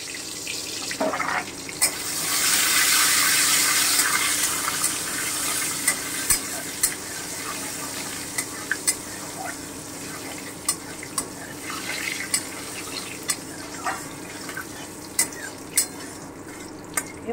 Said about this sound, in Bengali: এবারে আমি কড়াইয়ে গরম মশলাটা দিয়ে দিচ্ছি, থেতো করা, লবঙ্গ, দারচিনি, এলাচ